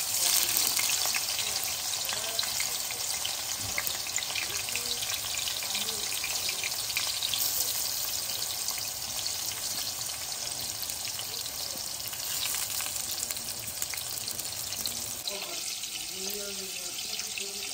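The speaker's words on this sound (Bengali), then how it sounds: "কাঁকরোলটাকে হলুদ আর লবণ দিয়ে নর্মাল, অন্য কোনো আর মশলা হবে না, এটা দিয়ে আগে একটু ভেজে নেব।" Teasel gourd (kakrol) seasoned only with turmeric and salt fries in a pan for a Noakhali-style dish, making a continuous dense sizzle throughout, with faint clinks and a soft background murmur near the end.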